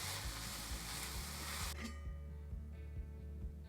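Tomatoes and corn searing in a hot pan: a dense, bright sizzle that cuts off abruptly partway through, leaving a low hum and faint clinks.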